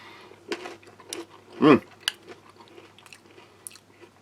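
A crunchy salted snack from a US Army halal roast beef and vegetable MRE is chewed close up, with a steady run of soft crunches and one louder bite midway.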